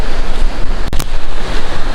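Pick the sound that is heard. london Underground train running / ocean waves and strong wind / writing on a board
ocean waves and strong wind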